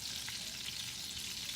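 Floured rabbit pieces fry in a pan over low heat, giving a steady, close, unbroken sizzle with crackling hiss throughout and no voices.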